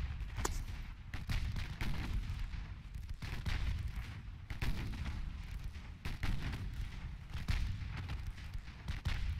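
Naval guns firing from warships in Ultimate Admiral: Dreadnoughts, with dense, continuous booming salvos and deep rumbling blasts piling over one another throughout, loud and steady with no talking.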